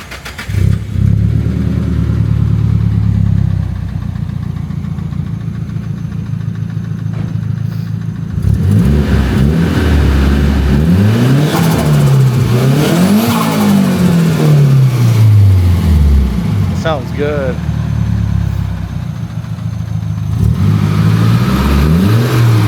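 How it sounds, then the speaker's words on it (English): Nissan S15 with a Tomei header and turbo elbow, factory turbo and a 3-inch Apexi N1 turbo-back exhaust, its engine idling loud and close, then revving and accelerating through rising and falling sweeps. "Tomei turbo elbow, factory turbo, Sick. 3-inch Apexi N1 exhaust, turbo back. It sounds great."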